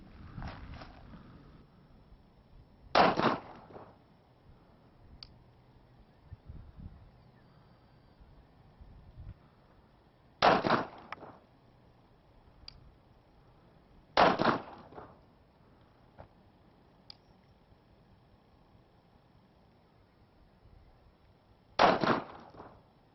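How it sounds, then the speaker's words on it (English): Four sharp, loud gunshots of Guardian Gold ammunition fired at milk jugs from 7 yards ring out several seconds apart, with a few fainter clicks and quiet handling noise between them. "just see how well this Guardian Gold shoots at 7 yards"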